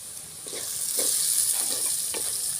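Onion pieces frying in a pan, a steady close hiss and sizzle with soft intermittent stirring scrapes and no voices.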